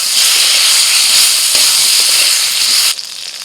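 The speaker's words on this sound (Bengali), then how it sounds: "মাছ ভাজার পর কড়াইতে যে তেল আছে তেলের মধ্যে বেগুন ভেজে নিচ্ছি" Sliced brinjal, seasoned with turmeric and salt, sizzles loudly in hot oil left in a wok after frying fish, a strong continuous hiss that drops abruptly near the end.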